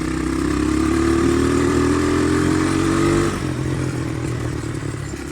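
A Honda 200X yard three-wheeler fitted with a swapped-in Chinese engine runs steadily nearby, a loud, even motor drone with some mechanical clatter that eases to a slightly lower, softer idle partway through, no talking.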